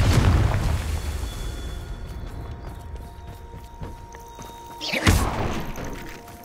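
A Confringo blasting curse goes off in Hogwarts Legacy, one loud booming burst near the end standing out from a rumbling, busy game background with thuds and clatter.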